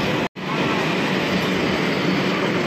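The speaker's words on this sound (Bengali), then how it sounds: "মেট্রো চলে এসছে" A Kolkata Metro train pulls into the station with a loud, steady rumble and rail roar that fills the whole clip, broken only by a brief gap near the start.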